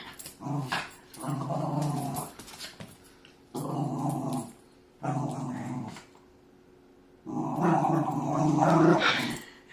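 A dog growls in several long, close rumbling bouts separated by short pauses, ending in a louder, extended growl.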